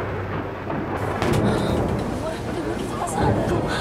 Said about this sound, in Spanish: la lluvia está muy fuerte.